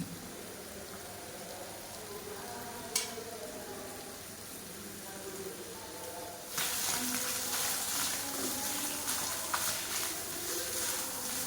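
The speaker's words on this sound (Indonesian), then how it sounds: "mau aku goreng setengah matang aja." Shredded tongkol tuna frying half-done in a home pan, a steady fine crackling hiss that swells much louder about halfway through as it spits and sizzles, with a soft voice underneath.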